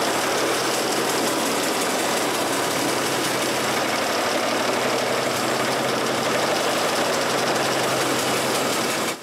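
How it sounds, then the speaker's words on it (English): A bandsaw cuts wood for a cremation urn, producing a loud, continuous buzzing whine with a steady mechanical hum that runs unbroken for about nine seconds before stopping at the very end. "I need to finish the job on the bandsaw."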